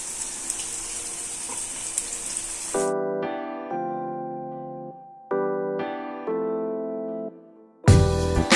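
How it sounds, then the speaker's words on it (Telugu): Bread slices sizzle steadily in hot oil or ghee in a pan for Double Ka Meetha, a loud hiss for about three seconds that gives way to music, then a brief return of the sizzle at the end. "అలానే అన్ని బ్రెడ్స్ని ఇందులో ఫ్రై చేసుకోవాలి ఆయిల్ ఆర్ నెయ్యి"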